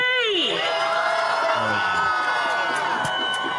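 A huge crowd cheers and whoops at a Washington, D.C. demonstration, a dense, loud roar of many voices with shouts and a rising whistle-like cry at the start, sustained throughout.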